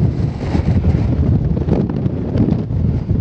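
Icy wind blows hard across a mountain walk on Coniston Old Man, a loud, steady roar buffeting the microphone with gusty swells and no pauses.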